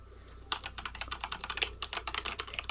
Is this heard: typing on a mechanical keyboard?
yes